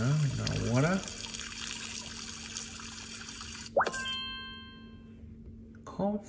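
Running water plays in a Pocoyo video game during a washing scene, a short splashing trickle between chiming musical tones and electronic game sounds, with a voice talking at the start.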